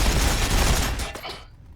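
Gunfire bursts in a Warhammer 40,000 Battlesector battle between Orks and Necrons, a dense, loud volley of shots and booms. It cuts off sharply into near silence after about a second and a half.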